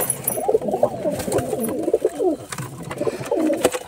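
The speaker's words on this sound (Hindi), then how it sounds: "पहले बड़े बड़े लॉफ्ट को सारे कबूतर निकलने के लिए बेताब है" Pigeons in a large loft cooing repeatedly in overlapping low, throaty calls, close and fairly loud, with occasional wing flutters and no talking.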